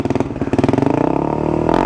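Motorcycle fitted with a cheap quiet racing exhaust being revved hard, a loud close burbling engine with rapid pulsing firing beats that rise and fall through quick throttle blips.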